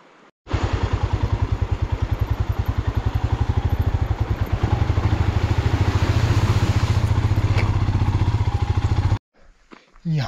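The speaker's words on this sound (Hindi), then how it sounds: "यहाँ पे बाइक केवल पहले गियर में चल रही है, दूसरे गियर में चलाने की मैं सोच भी नहीं सकता।" A motorcycle grinds up a steep mountain track in first gear on a Zanskar ride, the engine loud and close with a rapid steady thumping pulse that holds for about nine seconds before cutting off.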